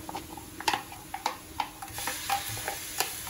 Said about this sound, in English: next I'm going to add in the ginger garlic tomato paste